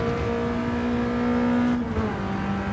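Naturally aspirated BMW M3 engine in Gran Turismo 7 revs high with a steady, sustained tone, drops briefly as it shifts, then climbs again, loud and close throughout.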